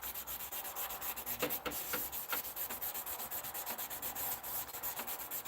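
Fine 1,000-grit abrasive rubbing back and forth across aluminum in a shop, a steady, close scratchy swishing with quick repeated strokes and no pauses.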